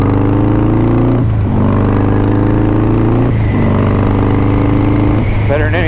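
A Harley-Davidson Softail motorcycle is ridden: its loud, close engine drones and climbs in pitch, drops twice as it shifts up through the gears, then pulls again steadily.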